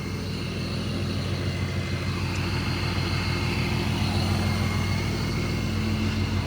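A boosted 5.0 Mustang fitted with a Vortech supercharger cruises along at a steady pace, its low engine drone rumbling constantly with a faint whine layered over the top, and no breaks or changes in the sound.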